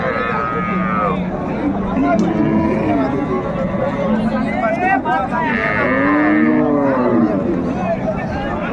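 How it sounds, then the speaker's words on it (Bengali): Cows and calves at a busy cattle market, with repeated loud moos rising and falling over a constant din of crowd chatter and people talking nearby. "বেশ সুন্দর গাভী বাচ্চা আমরা দেখছিলাম"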